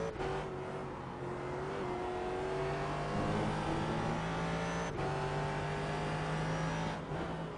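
Race car engine of a 4GT in a racing video game at the Spa circuit, a steady high-pitched whine holding near and loud, shifting pitch slightly with a few brief gear changes and no talk.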